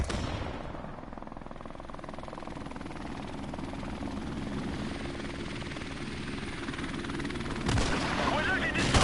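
Helicopter in the video game Call of Duty: Modern Warfare Remastered, a steady rotor drone running throughout amid gunfire-like crackle, with a louder burst near the end.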